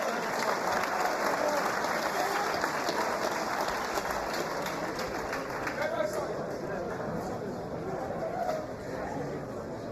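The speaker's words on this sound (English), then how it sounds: "Why don't you give the boys a round of applause, please?" A fight-night crowd applauds at a live combat-sports event, dense continuous clapping and chatter from a large audience, with a voice over the noise throughout.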